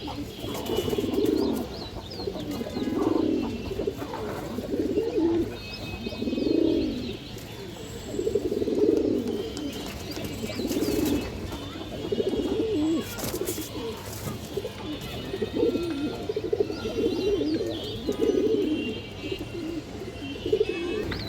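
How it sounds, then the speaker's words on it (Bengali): Pet Khaki pigeons at home, among them two Khaki males including a Silver Khaki, coo in repeated rolling bursts about every two seconds, close and clear over a quiet background. "দেখেন মাশাআল্লাহ এগুলো আমার বাসার কবুতর"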